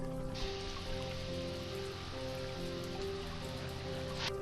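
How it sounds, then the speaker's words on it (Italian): Rain falls steadily as a dense, even hiss that holds at a constant level throughout, with a faint hum beneath it. "La pioggia che bagna la terra rifornisce i mari"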